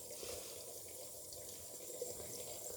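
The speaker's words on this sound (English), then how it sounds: "I've put it under warm water and I just gently wipe all the cleanser off" Warm tap water runs steadily into a sink as a bamboo cloth is rinsed under it, a continuous close, even splashing hiss with no talk.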